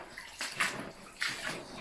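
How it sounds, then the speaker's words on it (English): Water drains down a channel into a cave, giving a soft, close trickle and splash with two gentle surges, quiet and steady with no voices. "so all the water drains down through here, through into the cave"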